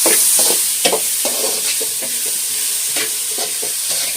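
Onions with avarekalu beans and salt stir-frying in a pan, a spoon scraping and tossing in repeated strokes over a steady close sizzle.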